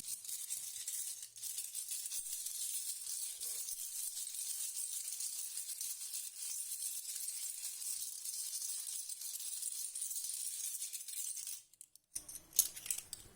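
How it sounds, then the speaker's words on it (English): Shells are shuffled together in a continuous bright, clattering rattle, close and steady for several seconds before stopping abruptly. "While I was shuffling the shells"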